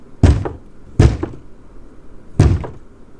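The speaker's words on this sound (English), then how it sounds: "About 20 minutes later, the knocking came back." Knocking on a wooden cabin door: three heavy, separate thuds spaced about a second apart, loud and close with no voices.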